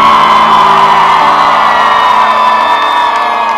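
A church congregation lets out a loud shout of victory during a Spanish-language worship service: a sustained, dense crowd roar of voices and whoops filling the space, with no clear speech.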